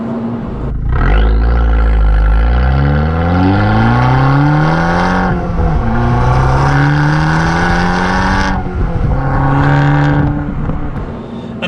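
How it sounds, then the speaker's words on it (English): A 2019 Abarth 595 Esseesse's Akrapovic exhaust rumbles and rises as the engine revs through gears, loud and close, with deep burbling tones and no talking. "the soundtrack from that Akrapovic exhaust is just delicious"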